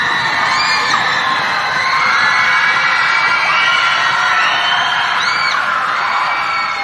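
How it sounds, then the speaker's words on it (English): Crowd at a girls basketball game cheering and whooping, a steady roar of excited voices with children's shouts rising throughout, loud and continuous. "There's the crowd coming alive."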